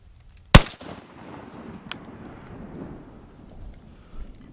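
A single loud, sharp gunshot at a duck during a Wisconsin duck hunt cracks early, followed by a fading outdoor rumble and a much fainter distant report, with only quiet ambient noise afterward.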